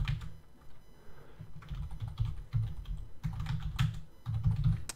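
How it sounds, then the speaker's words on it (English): Steady typing on a computer keyboard, close and fairly quiet, with bursts of rapid key clicks separated by short pauses, no voices. "And we're just going to type in some stuff."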